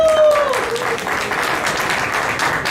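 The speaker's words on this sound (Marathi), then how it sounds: "तुमच्या टाळ्यांचा कडकडाट, तुमची वाहवाई हेच आमच्या सर्वांचं प्रोत्साहन आहे." An audience at a Gudi Padwa community celebration applauds in a dense, steady wash of clapping, loud and sustained, with a brief voice at the start.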